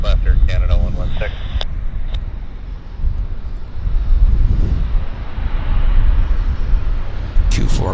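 An airliner's engines roar as it takes off from Vancouver airport, a broad, sustained rumble rising and swelling, while radio voices from air traffic control are heard at the start and end.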